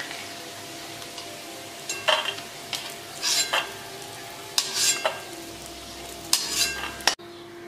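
Bajra millet fritters (kharvade) frying in oil, a steady soft sizzle with a few louder bursts of stirring and utensil scraping against the pan, close and alone without talk.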